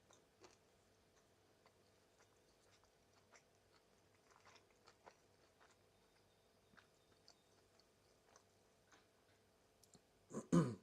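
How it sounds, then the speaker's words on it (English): Someone chews food softly and close, faint crunchy bites and ticks repeating quietly throughout, ending with a louder burst of noise near the end. "I hope there's not too much eating ASMR."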